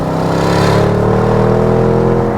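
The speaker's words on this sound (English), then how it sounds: "The sharp braps that you get on upshift, and then the burbles that you get on downshift" Audi RSQ8 V8 engine, a 2022 model, revving hard with a dense, steady roar over about two seconds, its pitch climbing through the run, loud and close with no talk.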